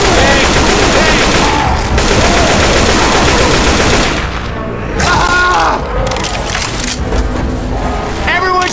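Dense, loud gunfire pours at the Tank in Left 4 Dead 2 on a Dark Carnival tank run, with sustained automatic bursts and heavy thuds that briefly dip and resume, while players shout over the shooting.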